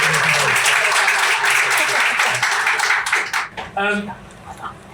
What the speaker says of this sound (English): Can we get a round of applause for this amazing work?